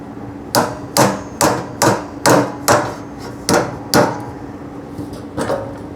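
A hammer strikes a part on a 1979 fuel-injected VW Super Beetle in a steady series of about nine sharp metallic blows, close and loud, each roughly half a second apart, the last few softer.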